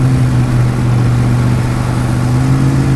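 A 2016 Ducati Monster 1200 R motorcycle engine runs with a loud, steady, low droning hum, close by and alone.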